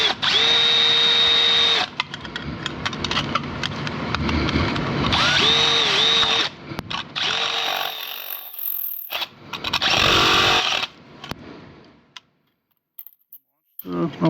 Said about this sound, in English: with like an aluminum pin that we're drilling here